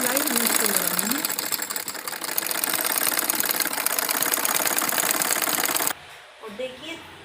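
Sewing machine double-stitching a circular umbrella palazzo, a steady, dense mechanical whir running for about six seconds before stopping abruptly, followed by a short voice.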